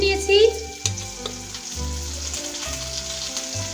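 Onion frying with ginger-garlic paste in a pan, a steady close sizzle with the low scrape of stirring at regular intervals and no talk.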